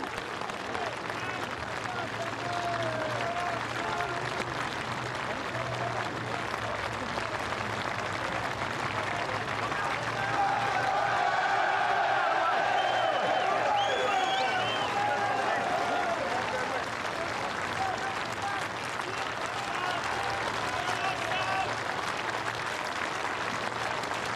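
Packed racecourse crowd at the 2007 Hennessy Gold Cup cheering and clapping the winning horse Denman and jockey Sam Thomas into the winner's enclosure, a continuous loud roar of applause and shouts with a commentator speaking over it.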